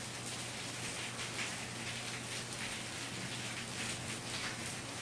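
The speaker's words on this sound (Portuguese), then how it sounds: "Sim, está chovendo muito, com certeza." Heavy rain pours down in a dense, continuous hiss, steady and enveloping with no talk over it.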